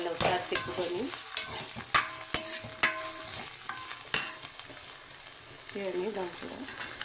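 Potato and puréed-tomato curry stirred and frying in a pan, giving a steady sizzle with scraping spoon strokes and occasional sharp clinks, while someone speaks briefly over the cooking.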